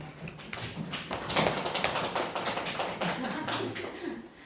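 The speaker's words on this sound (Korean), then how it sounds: "박수 한번 쳐주시겠습니까?" A small lecture audience claps together after a request during a writing class, with dense, uneven hand claps throughout and faint voices underneath.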